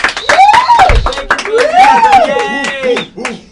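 Studio audience clapping on a late-night talk show, a burst of scattered, fairly close hand claps with a voice talking over them throughout.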